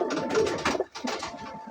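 Female domestic pigeon cooing close by, a run of soft, throaty coos in two bursts with a short pause between them, with no talking.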